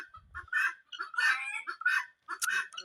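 Geese and ducks in a poultry yard honk and quack repeatedly at close range, a busy run of overlapping calls with short gaps between them.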